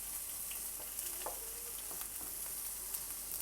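Garlic frying in a pan gives a quiet, steady sizzle, with small crackles and pops scattered through it and no voices.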